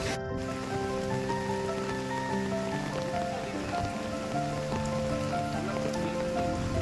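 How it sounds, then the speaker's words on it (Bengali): Heavy rain pours down outdoors as a steady, unbroken wash of drops that continues for the whole stretch with no voices. "বাইরে প্রচণ্ড বৃষ্টি হচ্ছে"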